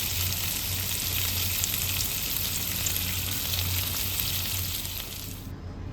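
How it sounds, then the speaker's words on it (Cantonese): Bacon wraps with chicken skin sizzle and fry in a pan until golden, a dense, steady crackle close to the microphone that cuts off abruptly at the end. "四周圍都煎到金黃色㗎啦"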